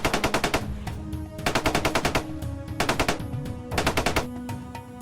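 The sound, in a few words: gunfire sound effect, machine gun bursts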